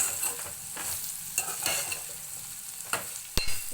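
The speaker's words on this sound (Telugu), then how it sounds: "ఈ కాకరకాయలు బ్రౌన్ కలర్ వచ్చే వరకు ఫ్రై చేసుకోవాలి" Bitter gourd slices fry in oil over a low flame, a steady sizzle running throughout while a utensil stirs them with soft scrapes and a few sharper knocks against the pan, one loud clack near the end.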